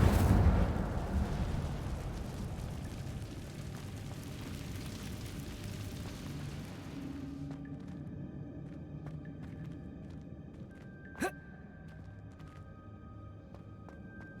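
Incendio fire spell cast in Hogwarts Legacy: a broad roaring burst of flame and rumble that swells loudly at the start, fades over several seconds into a low crackle, then a short sharp magical ping near the end.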